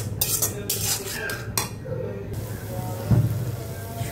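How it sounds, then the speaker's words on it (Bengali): Beaten egg is lightly fried in a pan while cooking noodles, a spatula clattering and scraping against the pan in quick bursts over a faint sizzle, then quieter stirring. "ডিমটাকে হালকা করে ভেজে নেব।"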